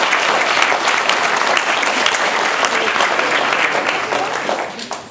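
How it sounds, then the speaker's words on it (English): Audience at a humorous speech contest gives loud, dense, steady applause for about five seconds, tapering slightly at the end. "So let's give everybody applause for that."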